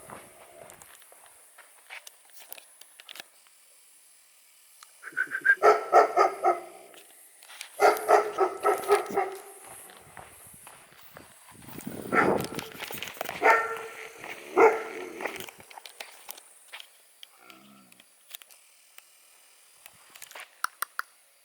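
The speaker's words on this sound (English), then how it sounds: "there was a massive German Shepherd dog" A large German Shepherd guarding a military radar base barks in several bursts at a moderate distance, with footsteps on a path in between and faint wind in the background.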